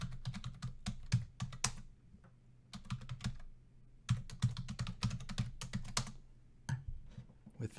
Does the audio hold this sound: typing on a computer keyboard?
yes